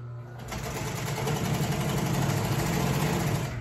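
An upholstery sewing machine stitches a cover, a steady fast mechanical chatter with a low motor hum running loud and close throughout, no pauses.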